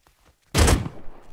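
A loud close gunshot burst from the Rust Console Edition video game erupts after a near-silent lead-in, a dense crack that rings and tails off into lingering echo and rumble.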